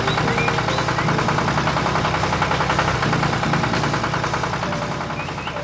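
A steady, rumbling tractor engine runs continuously at close range outdoors on a farm, with a throbbing, knocking rhythm, no voices present.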